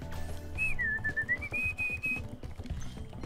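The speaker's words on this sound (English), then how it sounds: "Whistle Trixie" A clear, melodic whistle rises and dips over a game soundtrack in Spyro 3: Year of the Dragon, one sustained tune lasting about two seconds amid background music.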